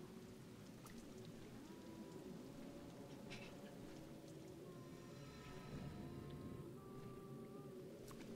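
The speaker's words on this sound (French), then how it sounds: "mais il pleut" Steady video-game rain patters down continuously in Project Zero: Maiden of Black Water, a dense wash of drops with faint tonal chirps drifting through the background.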